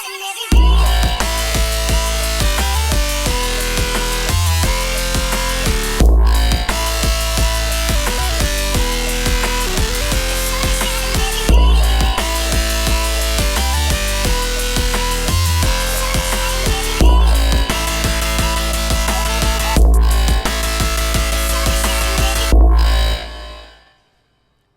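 A recreated drop of a drum and bass remix plays loud and continuous, with punchy kicks, snappy breaks and heavy bass driving a steady fast rhythm, briefly cutting to near silence between bars before fading out at the end.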